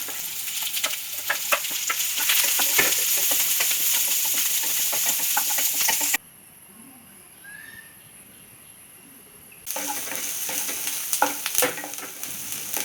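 Onion sautéing with ginger, garlic and green chilli in a pan for chapathi kothu, a dense crackling sizzle with stirring scrapes, broken by a few seconds of near silence before the frying resumes just as loud.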